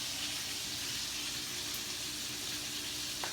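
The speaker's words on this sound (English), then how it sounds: "somebody wants an up-close video of the sizzle" Steak sizzling while cooking, heard up close as a steady, dense hiss with a faint low hum underneath and no distinct pops, continuous and fairly quiet throughout.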